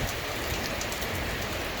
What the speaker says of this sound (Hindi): बारिश रुकती ही नहीं।